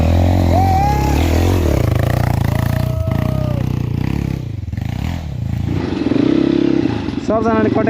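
An enduro motorcycle rides a narrow wild trail, its engine droning loudly and steadily close by with clattering and scraping from the rough ground, while voices talk over it.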